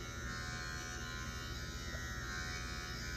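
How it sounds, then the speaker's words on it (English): Wahl Disruptour electric hair clipper running steadily with a constant close buzzing whine, its pitch shifting partway through as the motor changes speed. "here it changes pitch. I've never understood why Wahl clippers do that."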